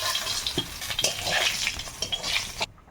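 Large river flatfish frying in hot oil in a wok, a dense steady sizzle with clinks of a spatula stirring, loud and close, no voices.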